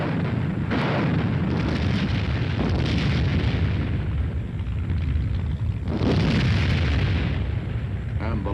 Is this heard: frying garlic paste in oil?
no